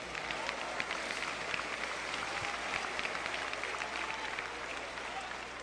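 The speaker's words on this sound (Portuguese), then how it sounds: "E os que podem tomem o seu assento, aplaudindo a Jesus" A church congregation applauds, a sustained wash of clapping heard from a distance in a large reverberant space, even and continuous for several seconds.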